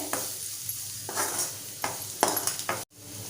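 Malvani masala sautéing in oil in a pan for a clam curry, with a steady close sizzle and several distinct spoon scrapes and stirring knocks, then an abrupt cutoff near the end.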